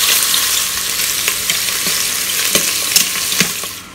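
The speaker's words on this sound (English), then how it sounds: "We want to brown it on all sides." Pork ribs browning in a La Gourmet multi-cooker for Chinese-style ribs give a steady, close sizzle with scattered sharp pops and crackles throughout.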